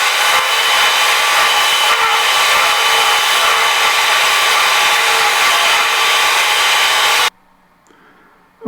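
A shear scraper cuts torn wood on a spinning lathe, producing a loud, steady broadband hiss and rasp that runs continuously for about seven seconds, then stops abruptly, leaving near silence with faint residual sound.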